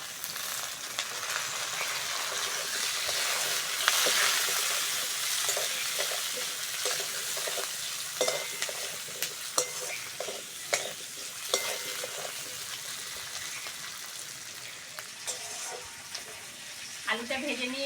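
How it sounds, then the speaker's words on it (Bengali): Cut, washed potatoes tipped into a pan of lightly fried onion, hissing steadily in hot oil while a spoon scrapes and stirs in irregular clicks, close and fairly loud. "কেটে ধুয়ে রাখা আলুটা দিয়ে দেবো।"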